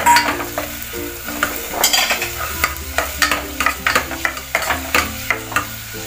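Chopped onions sautéing and being stirred in a pan for a Kerala-style mutton curry, with steady frying sizzle, repeated scraping stirs and light utensil clinks, close and fairly loud with no talking.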